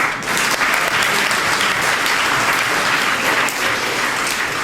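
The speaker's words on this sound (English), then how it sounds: "Another round of applause for Emily." A crowd claps loudly and steadily throughout, a dense, sustained round of applause with no break.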